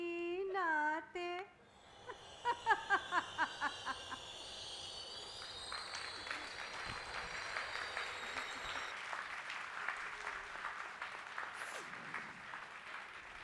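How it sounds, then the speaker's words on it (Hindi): Audience applause at a Lucknow stage storytelling event: a burst of many hands clapping builds and sustains steadily for several seconds, following a few brief tonal sounds at the start. "बहुत शुक्रिया आपकी उन ज़ोरदार तालियों का जो अभी हमें थोड़ी सी कम मिली हैं"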